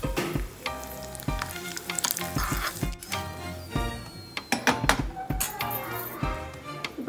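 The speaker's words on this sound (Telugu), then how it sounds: "ఈలోపు ఈ స్టవ్ మీద డ్రై ఫ్రూట్స్ వేయించుకుందాము" Cashews and raisins frying on the stove in a pan for jackfruit payasam, loud crackling sizzle broken by repeated clinks and taps of a spoon against the pan, with no voice.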